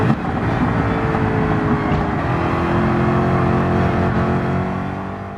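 Race cars roar around a track in Gran Turismo, engines droning steadily with shifting revs as a car fights for grip exiting a corner, loud and continuous throughout.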